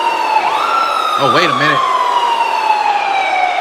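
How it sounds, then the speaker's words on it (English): Ambulance siren wailing as the vehicle pulls onto the top of a wrestling event stage, a loud sustained tone with a brief rising yelp, while someone speaks briefly over it. "There's an ambulance that just pulled into the top of the stage."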